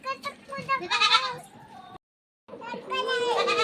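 A young goat bleats in a few high, wavering cries, close by, with a short pause of silence between bursts.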